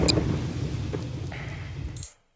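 Thunderstorm in the Garry's Mod video game, a steady low rumble of thunder with rain noise, moderately loud and alone, cutting off abruptly at the end.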